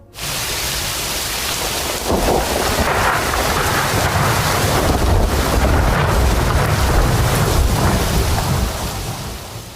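A rainy-season thunderstorm with heavy rain pouring down and a deep rumble of thunder swelling after the first couple of seconds, loud and continuous throughout, no voices.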